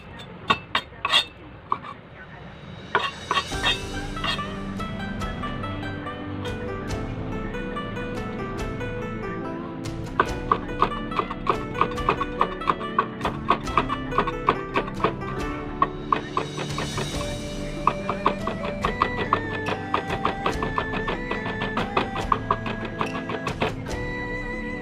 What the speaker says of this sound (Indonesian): nanti itu cabainya itu saya cincang kecil-kecil